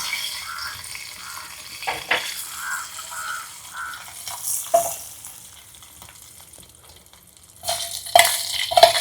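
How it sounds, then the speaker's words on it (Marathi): Hot tadka tempering poured into rice and stirred through, with a sizzling burst and scraping stirs that die down, then a louder crackle near the end, no talk. "आता आपण तो भातामध्ये टाकून घेऊया आणि मिसळून घेऊया"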